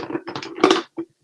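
Hard clattering as an acrylic stamping block is picked up, a quick run of knocks and rattles followed by one short tap, close by.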